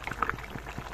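Fish egg curry bubbling in a pot, a short burst of soft liquid pops and gurgles at close range, steady and fairly quiet with no voices.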